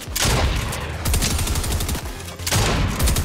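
Fortnite gunfire: dense, loud bursts of rapid automatic shots in two long volleys split by a brief pause, close and sharp, with no talk over them.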